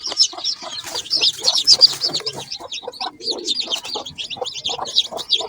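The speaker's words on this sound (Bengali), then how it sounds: "আমাদের অনেকগুলো মুরগির বাচ্চা ফুটেছে, হাঁসের বাচ্চা, মুরগির বাচ্চা" Newly hatched chicken chicks give a busy stream of shrill, rapid peeps, close and continuous, with softer low clucks mixed in underneath.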